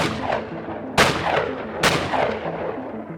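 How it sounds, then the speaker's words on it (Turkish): Two sharp, loud gunshots about a second apart, each with a reverberant tail, over a low background rumble. "Şah'ın okulu ziyaret ettiği sırada koridorlarda üst üste kurşun sesleri duyuldu."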